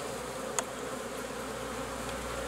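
Honeybees at an open beehive hum in a steady, dense buzz that holds constant throughout, with a couple of brief louder passes close by.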